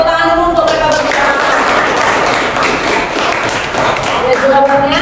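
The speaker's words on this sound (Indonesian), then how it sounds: "tepuk tangan dulu untuk mereka berbicara" A classroom of students claps together: dense, steady applause lasting several seconds, with a voice speaking at the start and end.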